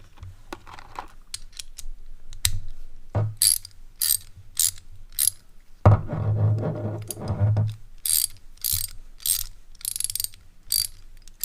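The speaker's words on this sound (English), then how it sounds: "The ratchet's pretty good." A cheap Harbor Freight socket-set ratchet from a 40-piece set being clicked: rapid runs of sharp metallic pawl clicks in short bursts, with a longer ratcheting sweep midway, close and loud, no voices.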